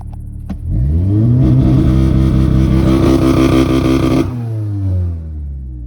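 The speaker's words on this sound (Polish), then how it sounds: "Mamy też możliwość uruchomienia procedury e, Launch Control w trybie sportowym." An Audi S3 2.0 TFSI with a Garrett turbo upgrade revs hard on launch control, engine note climbing and holding at a loud, steady high pitch for several seconds before dropping back to a lower idle-like drone; no talking.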